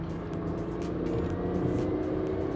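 A steady, throaty roar from the three-cylinder engine of a 2015 BMW i8, with a low rumbling drone, continuous and close for a couple of seconds.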